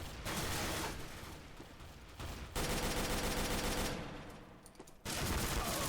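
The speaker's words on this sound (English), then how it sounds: "I got sprayed and prayed by Alfred." Automatic rifle fire sprays in Counter-Strike: Global Offensive, an early 2011 alpha build, as dense sustained bursts that fill nearly the whole stretch, broken by short gaps, loud and close with no talking.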